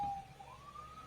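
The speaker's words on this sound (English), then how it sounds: "It's a ambulance." An ambulance siren passing outside, a faint distant tone that slides slowly upward during one brief moment, with no voices.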